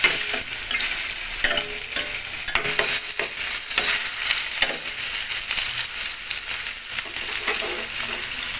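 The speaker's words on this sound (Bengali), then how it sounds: "মাছটা ভেজে নেই" Pieces of katla fish fry in a pan of oil with a continuous loud sizzle, broken by occasional stirring and scraping sounds close by.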